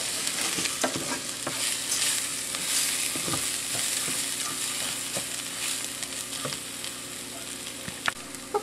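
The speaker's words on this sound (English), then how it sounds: "I cooked that up a couple minutes just to kind of toast up the rice." Arborio rice toasting in olive oil for mushroom risotto crackles and sizzles steadily while being stirred, with frequent sharp ticks and scrapes of the spoon against the pan throughout.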